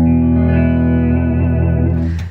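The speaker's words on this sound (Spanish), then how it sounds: "Una guitarra limpia suena así." A clean, undistorted electric guitar rings out one sustained chord with steady, bright harmonics, close and loud, decaying near the end.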